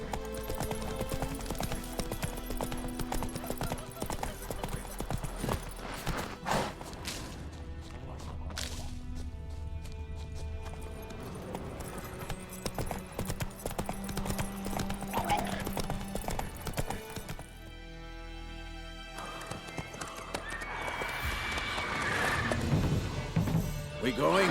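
Roach the horse clip-clops at a steady pace across ground in The Witcher 3, the hoof beats repeating clearly alongside game music and effects, with brief voices.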